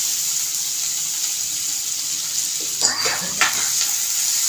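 Chopped onions going into hot oil in a pan for an egg tawa masala: a constant bright sizzle, with a couple of louder crackling bursts near the end as the onions hit the oil.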